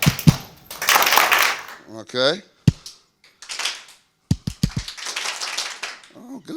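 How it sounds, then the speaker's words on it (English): An audience claps in rhythm with a speaker at a confidence summit, sharp bursts of claps spaced unevenly between short stretches of talk. "give me some claps"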